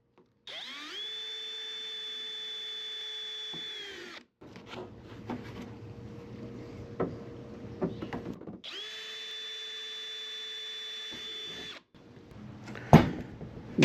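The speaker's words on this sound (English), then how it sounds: "I'm going to up drill the holes so that a screw will fit." Power drill upsizing screw holes in the upper engine cowl of a Sonex aircraft, running in two steady whining bursts of about four seconds each, separated by scraping and handling noise, with a sharp knock near the end.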